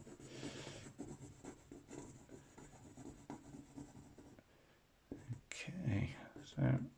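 A pencil pressed hard moves across paper in short, scratchy, repeated strokes, soft and close, while someone speaks quietly over them.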